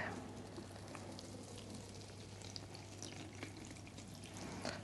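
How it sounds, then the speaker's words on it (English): Water pours from a watering can onto plants in a greenhouse, a soft continuous splatter and trickle with scattered drips, faint and close, lasting several seconds. "So I'm gonna water these really quick."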